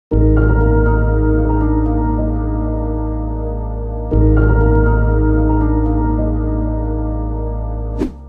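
Ambient synth pad from a plugin sustains chords together with piano and bass, two long swelling chord changes that ring out, smooth and loud, with no voices.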